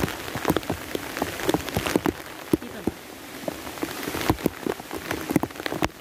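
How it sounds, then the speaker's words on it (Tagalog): Heavy rain falls on a rainy harvest day, a dense, steady patter with sharp individual drops popping out of the hiss near at hand. "Malakas na naman po mga kabaryo yung ulan, kaya eto, basang-basa na ako."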